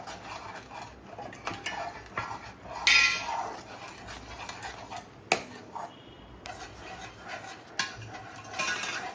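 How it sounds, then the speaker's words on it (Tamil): Badam halwa is stirred in a pan over medium heat, producing repeated scraping and clinking of a spoon against metal in an irregular rhythm, close by, with no one speaking. "இது இப்படி கிண்டிகிட்டே இருக்கணும்"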